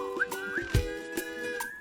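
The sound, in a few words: whistling in a song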